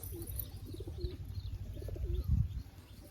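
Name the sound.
wild pigeons cooing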